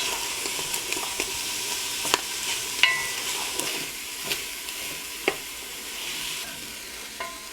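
Sausage and bacon sizzle steadily in a pan, a continuous close crackling hiss broken by occasional sharper pops and light scraping knocks.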